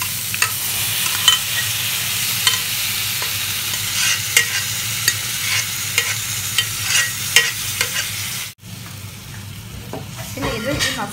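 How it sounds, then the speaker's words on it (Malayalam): Cooked beef and its cooking water going into frying masala for tapioca biriyani: a loud, close sizzle with repeated clicking stir strokes, a brief hush, then bubbling as the mixture settles. "ഇനി നമുക്ക് ബീഫ് വേവിച്ച വെള്ളവും ബീഫും കൂടെ ഇതിലേക്ക് ചേർത്ത് കൊടുക്കാം."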